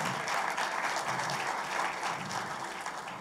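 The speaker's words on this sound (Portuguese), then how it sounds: "queria dar uma salva de palmas aqui para Rafael." An audience applauds at a tech talk on PHP and web application security, steady, dense clapping from a room full of people throughout, fairly loud with no voices over it.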